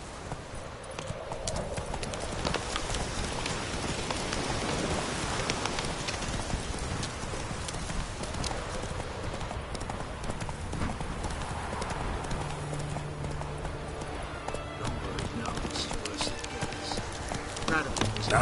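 Hooves of Roach, a horse in The Witcher 3, clip-clop steadily at a gallop, close and continuous amid rain-like ambience.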